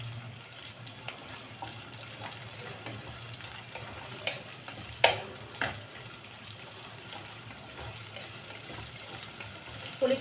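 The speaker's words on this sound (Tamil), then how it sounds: "கருவேப்பிலை சேர்த்துக்கிறேன். இது நல்லா வதங்கணும்." Curry leaves sautéing in hot oil for a fish kuzhambu, a low continuous sizzle with a few brief spatters and clinks, faint and close, no voices.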